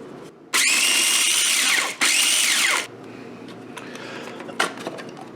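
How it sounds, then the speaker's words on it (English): Electric spice grinder grinding allspice into curry powder for Sri Lankan green beans with coconut: two loud, whirring motor bursts, the first longer, each winding down with a falling whine, followed by quiet rattling. "we're going to put the top on, and we're going to grind these, and this is going to be our curry powder"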